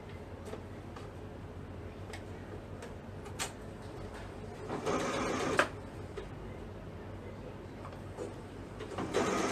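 Sewing machine hemming the sleeve of a boy's pajama top, a quiet steady stitching whir with ticking beats and a few louder bursts, close up and with no talking.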